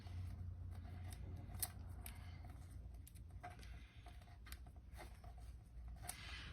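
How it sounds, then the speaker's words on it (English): The sticky backing is peeled off a strip of Velcro tape, making faint, scattered crackles and small ticking snaps at an uneven pace, close and quiet, with no voices. "I'll take off this sticky tape on the back of it"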